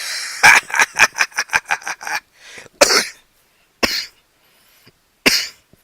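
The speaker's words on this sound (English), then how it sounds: "I apologize for the cough." A rapid fit of harsh coughing, a burst of about ten quick coughs followed by several separate hacking coughs with pauses between them, loud and close.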